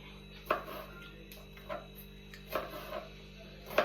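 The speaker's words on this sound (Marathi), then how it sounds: "पूर्ण झाले आपण टॅमॅटो कापायचं" A knife chopping a tomato in a home kitchen while bhel is made, a few sparse, quiet taps on the board at an uneven pace over low background hum.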